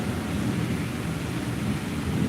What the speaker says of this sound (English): Wow, that's some crazy lightning. Thunder,